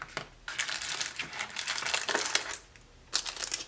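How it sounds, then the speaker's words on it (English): Plastic wrap being pulled off fountain pen packaging for a Pelikan Stola III pen, with close, busy crinkling and crackling that runs in bursts, briefly pauses near the end, then resumes. "it's in this plastic wrap, if I can get that out of there"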